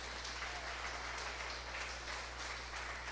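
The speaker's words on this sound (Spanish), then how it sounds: "denle un aplauso al Señor" A church congregation applauds in praise during a Spanish-language sermon, a steady, continuous wash of clapping held at an even level throughout over a low constant hum.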